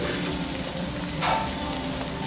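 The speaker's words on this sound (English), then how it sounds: "Here's sizzling kielbasa. Wow. Careful, that cast iron is hot." Kielbasa sausage sizzles in a hot cast iron pan, a steady dense frying hiss that stays close and continuous throughout with no talking.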